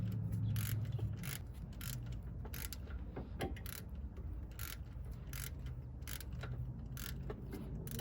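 A ratchet works loose a starter bolt on a 2006-2011 Honda Civic, reached through the wheel well, giving a rapid rhythmic clicking in repeated bursts over a low mechanical rumble.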